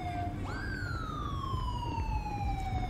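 An ambulance siren sweeps up sharply and then holds a long, slowly falling wail in GTA 5 with the LSPDFR police mod, loud and close over a low rumble of traffic.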